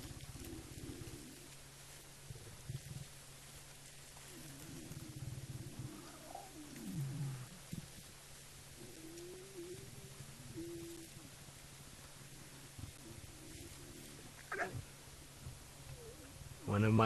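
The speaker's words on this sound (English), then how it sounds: "One of my favorite sounds in the bush is little lion cubs begging for milk." Little lion cubs of the Styx pride in the African bush beg for milk with soft mewing calls and whines scattered across a quiet background, faint and intermittent, with a voice talking at times.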